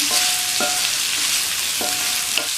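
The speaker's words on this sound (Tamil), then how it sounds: "இப்படி வதக்கி விட்டுக்கோங்க." Cubes of elephant foot yam sauté in a pan with a dense, even sizzle, and two quick scrapes of a spatula cut through it.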